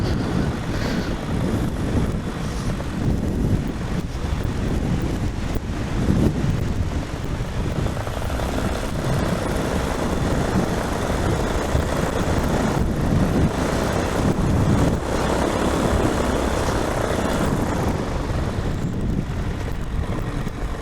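Strong wind buffeting outdoors, a loud, continuous low roar that rumbles steadily for the whole stretch with gusty swells and no voices.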